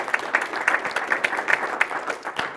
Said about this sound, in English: So let's give a round of applause for Sarah.